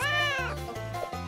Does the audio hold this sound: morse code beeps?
no